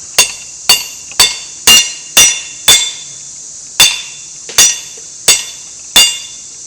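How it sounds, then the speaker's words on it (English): A blacksmith's hammer strikes hot metal about ten times in an uneven rhythm, each blow sharp, loud and close with a brief metallic ring. "And then hammer the head"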